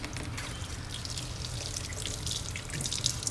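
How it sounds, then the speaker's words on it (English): Hands being rinsed under running tap water, a continuous close splashing and trickling stream over a few seconds with no talking. "we're gonna rinse with your left in this water here"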